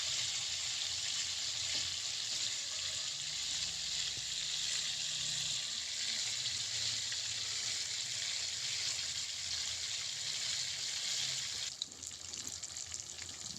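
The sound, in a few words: chanda fish frying slowly in oil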